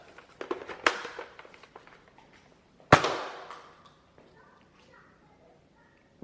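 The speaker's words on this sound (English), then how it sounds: "I'm shooting the Nerf gun." Nerf gun firing indoors at home, two sharp snapping shots a couple of seconds apart with lighter clicks and handling noises around them, plus faint voices nearby.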